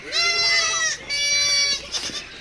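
Young goats bleat in quick succession near a farm field, with two or three loud, wavering cries close by and a fainter one trailing off at the end.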